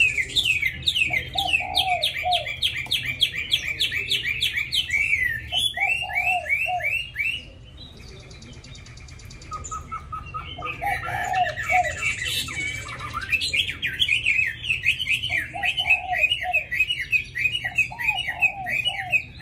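A caged Chinese hwamei songbird sings a long, varied run of bright whistled phrases and trills, loud and close, pausing briefly midway before resuming; no talking.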